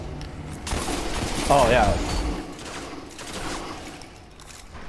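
Pulse rifle fire in the Destiny shooter during an Iron Banner match, sounding as a dense, continuous wash of gunfire with someone talking briefly over it.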